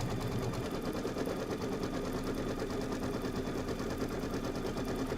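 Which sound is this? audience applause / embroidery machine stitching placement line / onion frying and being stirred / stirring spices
embroidery machine stitching placement line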